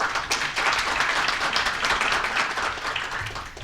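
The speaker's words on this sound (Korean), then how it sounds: "큰 박수 부탁드리겠습니다." Audience applause at a Korean energy forum on natural gas supply security, a dense steady wash of clapping hands that fills the room, sustained and fairly loud throughout with no talk over it.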